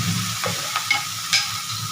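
Water lily stems drop into hot mustard oil already spiced with nigella seeds and split green chilies, giving a steady close sizzle broken by a few sharp spatters and stirring clicks.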